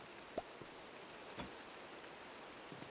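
Soft, steady rain in Minecraft at night, a faint even hiss with a couple of small isolated ticks, no voices.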